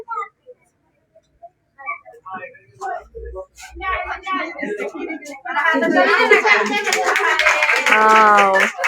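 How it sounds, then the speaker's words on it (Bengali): At a preschool prize-giving, parents clap in a swelling round of applause that grows loud and dense. It mixes with children's voices and announcements, and sparse, faint claps come first. "অভিভাবকরা খুশি, করতালি দিচ্ছেন।"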